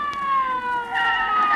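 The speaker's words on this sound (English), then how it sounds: "Here comes the ambulance." An ambulance siren wailing in a street scene, a steady tonal siren rising in pitch and growing louder as it approaches.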